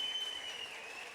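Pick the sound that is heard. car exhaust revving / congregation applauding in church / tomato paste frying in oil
congregation applauding in church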